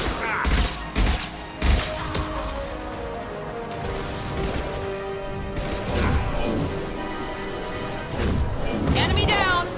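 Impact-shot gunfire in the video game Mass Effect 2, heavy blasts and crashing impacts layered in a loud, busy battle mix with speech over the action.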